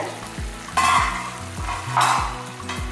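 Pepper kuzhambu, a Tamil peppery tamarind curry, bubbles and sizzles in a pot, a steady close crackle with two brief louder surges of stirring or spattering, no voices.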